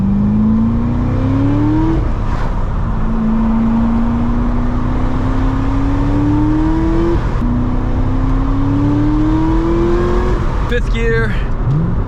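A C6 ZR1 Corvette with a modified exhaust revs and pulls through rising gear sweeps, each climb ending abruptly at a shift, loud and close, with a voice talking over it.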